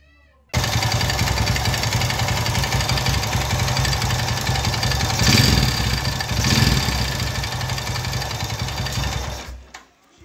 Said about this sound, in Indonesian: Sekarang kita coba tes nyalakan